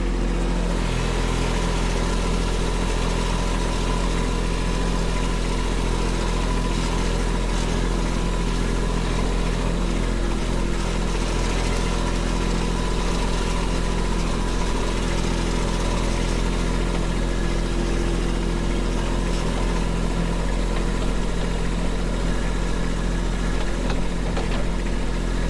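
A small tractor with a front loader runs in low gear close by, its engine a steady, loud, even drone with a strong low hum and constant vibration, unchanging throughout and with no talking.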